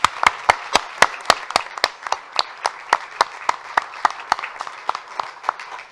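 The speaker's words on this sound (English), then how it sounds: "I'm going to have everyone give a round of applause for these students." A round of applause for students at a city council meeting, with sharp, evenly spaced claps ringing out through the room over a steady bed of clapping hands.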